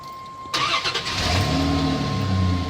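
A car engine cranks and catches at about half a second, then settles into a steady idle with the AC on max and the blower running, a constant fan and engine hum close by.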